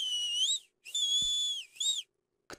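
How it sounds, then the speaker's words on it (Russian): Someone whistles three clear, high sustained notes in quick succession in a Minecraft game scene, the last one shorter, followed by a brief faint click. "Кто свистит-то там?"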